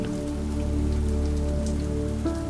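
Steady afternoon rain patters on surfaces outside a bakery window, a dense continuous hiss with a low hum beneath, no voices.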